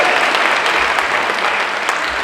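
A San Diego Comic Con panel audience applauds a panel member, a dense continuous wash of clapping from a large crowd that stays loud and even throughout.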